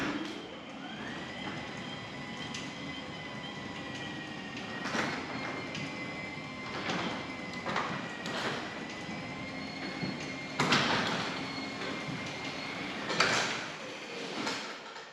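A garage door driven by a Genie jackshaft wall-mount opener rumbles and grinds continuously while closing with a rising whine, punctuated by repeated clunks and rattles as it moves.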